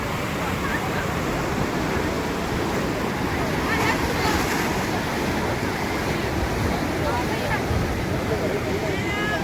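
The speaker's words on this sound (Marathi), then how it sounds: "लाटा पण मस्त वेग अशा एकदम जोरात जोरात येतात." Strong sea waves roll in at the Malvan coast in Konkan, a continuous loud roaring wash with wind buffeting the microphone and faint voices beneath.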